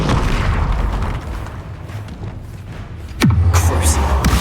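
An Incendio fire spell is cast in Hogwarts Legacy on PS5, with a rumbling, booming burst of flame over a dense game soundscape. A sharper blast lands late and is followed by a sustained low roar. A voice is faintly present.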